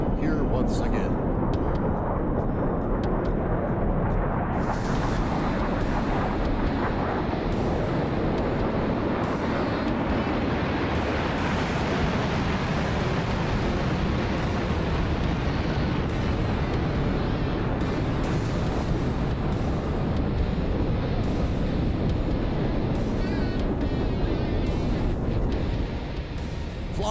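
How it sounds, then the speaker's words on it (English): An F-4E Phantom II on its takeoff roll at an air show, its General Electric J79 axial-flow engines producing a loud, continuous, thundering roar that holds strong throughout. "get ready to hear the sound of the General Electric Axial Flow J79 engines as the legend is about to return to the skies here once again"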